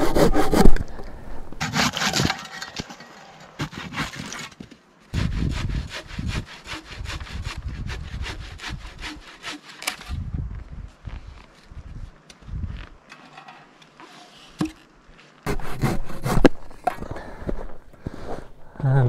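Hand saw cutting through wood in repeated bursts of rhythmic back-and-forth strokes, with short pauses between runs, close and fairly loud.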